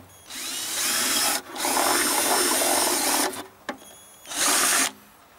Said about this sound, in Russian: То есть берем вот так вот и сверлим дырку.